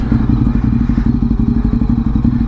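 A motorcycle just out of seven months' storage runs close by, a loud, steady, rhythmic engine putter with a fast pulsing beat and no talking.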